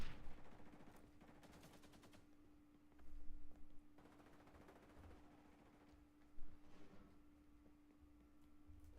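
An RPK machine gun fires in the shooter XDefiant, with a few short, fairly faint bursts of automatic fire separated by pauses over a steady low hum.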